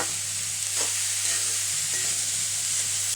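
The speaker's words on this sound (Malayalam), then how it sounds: "നന്നായിട്ട് ഒന്ന് ഇളക്കി കൊടുക്കുക" Mixed vegetables for a Kerala thoran fry steadily in a pan, a continuous hiss and sizzle with a few soft scrapes from a spoon stirring them, close and alone.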